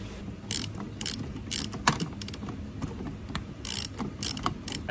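Ratchet tightening bolts on a seat bracket in a C5 Corvette fitted with a Marrad bracket, giving quick bursts of close clicking strokes with pauses between them over low mechanical background noise.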